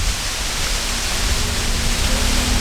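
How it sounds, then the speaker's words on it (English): Steady, loud broadband rush of a waterfall in the Atherton Tablelands near Cairns, a continuous roar with no breaks, heard alone without talk. "We're up to our last waterfall in this area,"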